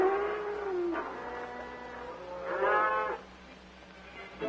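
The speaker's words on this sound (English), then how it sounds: "an unhoped-for glimpse of a small, honest-to-goodness cattle drive" Cattle on a small cattle drive near Calgary, with several drawn-out moos and bellows over a low, steady outdoor rumble.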